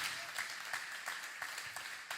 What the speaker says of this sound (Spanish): Dele fuerte ese aplauso a Dios